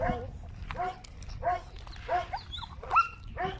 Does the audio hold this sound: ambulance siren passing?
no